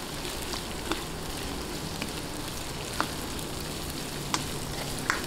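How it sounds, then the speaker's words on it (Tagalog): Garlic and onion fry in a pan with a dense, even sizzle, broken by a few sharp clicks of a utensil against the pan, close by and without voices. "gisa-gisahin lang po natin hanggang mag-light brown yung ating bawang. Ayan, lagay po natin ng sibuyas"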